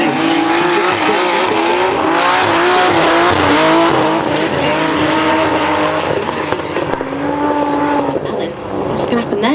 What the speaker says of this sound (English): Josh King starts to fire down and lay down the gauntlet